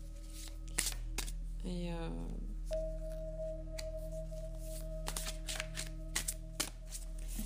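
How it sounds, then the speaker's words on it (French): Oracle cards from a deck of sacred rebels being shuffled and drawn, with soft riffling and card snaps scattered through the clip under someone speaking French, plus a steady tone humming in the background. "je vais tirer une carte avec l'oracle des rebelles sacrés d'Alana Fairchild"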